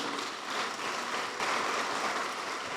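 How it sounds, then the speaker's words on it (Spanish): Sustained applause from a church congregation fills the space, a steady wash of clapping with no voices over it. "Dale un aplauso a Jesús en esta mañana"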